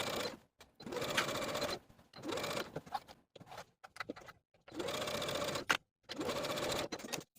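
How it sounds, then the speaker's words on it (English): Sewing machine top stitching the back opening edges of a Simplicity 9678 holiday dress, running in several quick bursts with short pauses between them, close and moderately quiet. "Now I'm going to take it to my sewing machine and top stitch those back opening edges"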